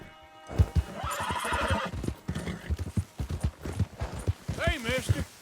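Horse in Red Dead Redemption II: a loud whinny rises and wavers near the end, following steady clip-clop hooves, with other game sounds in the background.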